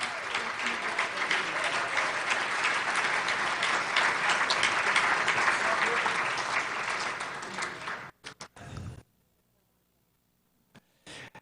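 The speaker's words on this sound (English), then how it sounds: "How about a big round of applause for all of those guys?" A large banquet-hall audience at an award event gives a big round of applause that holds loud and sustained for about eight seconds, then breaks off into a few scattered claps and near silence.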